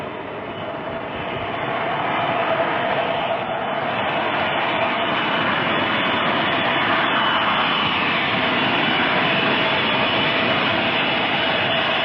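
Steady roar of a Boeing 707 jet aircraft's engines in flight, a broad, continuous wash of noise holding level from start to finish with no breaks.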